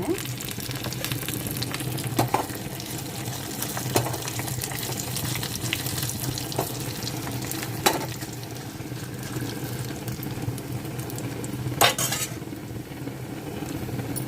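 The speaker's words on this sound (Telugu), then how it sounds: "వేగిపోయినాయండి పోపులు ఇప్పుడు ఎండుమిర్చి కూడా వేసేసుకుందాము వేగిపోవాలి బాగా" Tempering spices and dried red chillies sizzle in hot oil for sambar, giving a steady, close frying hiss with a few sharper crackles and pops scattered throughout.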